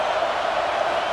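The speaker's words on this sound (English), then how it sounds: "Decibels rising as the crowd gets behind this defense on 3rd down." Stadium crowd in College Football 26 roaring steadily on a third-down defensive stand, a dense, continuous wash of cheering with no breaks across the moment.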